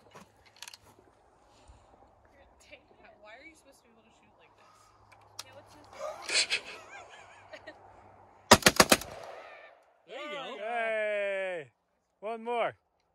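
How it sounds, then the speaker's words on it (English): Gunfire from a gun being shot outdoors during an off-road outing, one sharp, loud burst of closely spaced cracks near the middle, with faint talk before and a voice afterwards. "Are you gonna shoot or what?"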